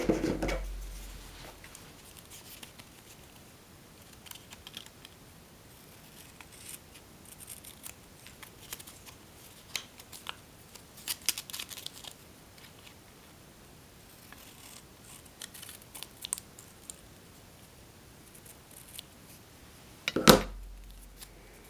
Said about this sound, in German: Gut, diese Reste schneidet ihr jetzt ab.